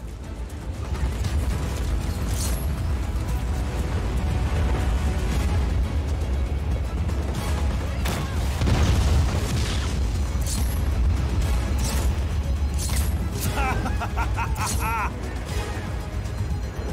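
A wind cannon is destroyed in Just Cause 4 amid heavy booming explosions and crashing debris, loud and continuous game action with a voice speaking over it and electronic beeps near the end.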